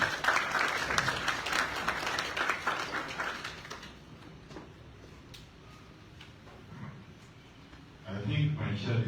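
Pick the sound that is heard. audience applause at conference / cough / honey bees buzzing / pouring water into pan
audience applause at conference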